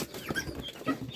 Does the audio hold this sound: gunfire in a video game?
no